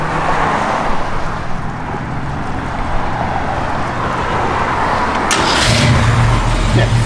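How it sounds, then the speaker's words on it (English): A 1966 Ford Mustang Convertible's engine is cranked and fires up, a loud close rumble settling into a steady idle after a burst of cranking noise. "every time we turn the key, I think this fires right up just like that."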